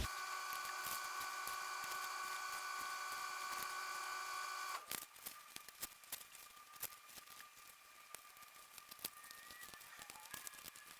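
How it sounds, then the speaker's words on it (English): A sewing machine top stitching down both sides of a bag strap, sped up, gives a fast steady mechanical whir with a high whine and brief clicks, faint and alone. "then I'll top stitch down both sides. I'll speed this part up"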